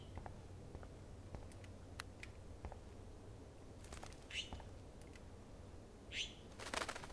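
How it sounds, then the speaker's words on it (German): A trapped bird flaps its wings inside a room in Life is Strange, soft intermittent flutters and brief scratchy bursts over a quiet low hum, growing busier toward the end. "That poor little bird has been trapped in here."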